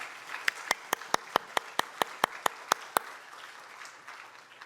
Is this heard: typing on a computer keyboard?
no